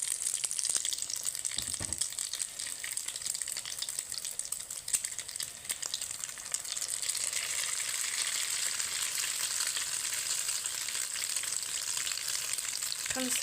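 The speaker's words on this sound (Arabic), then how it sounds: "دابا غادي نقليه، من بعد ما سخنا فيه الزيت مزيان" Egg-coated cauliflower frying in hot oil, a dense continuous sizzle that stays loud and even throughout, close up, with a brief low knock near the start and no talk.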